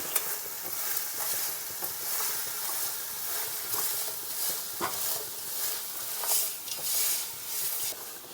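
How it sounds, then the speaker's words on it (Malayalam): Chicken feet frying in a pan with onion, green chilli and salt, stirred steadily, with a continuous close sizzle and hiss under intermittent scraping strokes. "കുറച്ച് ഉപ്പിട്ട് കൊടുക്കാം ഒന്ന് ഇളക്കി കൊടുക്കാം"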